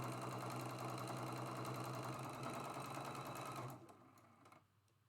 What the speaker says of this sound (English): Sewing our second piece.